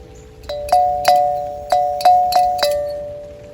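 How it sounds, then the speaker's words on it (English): A small bell found in the street rings about six times in an uneven rhythm, each bright metallic strike sustaining a clear tone that decays slowly, close and fairly loud in an outdoor garden. "And I found this bell in the street."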